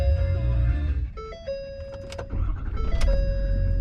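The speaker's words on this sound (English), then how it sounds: "Let's turn on the car so they get some AC." A car started in Florida to run the air conditioning hums with a low engine rumble while steady electronic chime tones sound inside the cabin.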